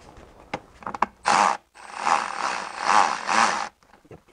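A part is bolted onto the back of the intake manifold of an M62TU V8 in a BMW E53 during a valley pan replacement, with close mechanical scraping and tool sounds in short bursts.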